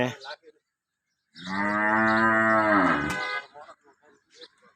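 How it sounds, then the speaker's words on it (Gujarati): A good milking cow lets out one long, full moo lasting about two seconds in an otherwise quiet setting, with brief faint voices before and after it. "આરિયા ગાય ખૂબ સારી છે અને દૂધવાળી છે"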